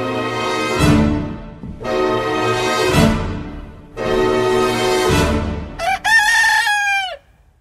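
A rooster crows loudly and close three times in a steady rhythm, each call a long drawn-out cry, followed by a shorter, higher squawking crow at the end, with nothing else heard.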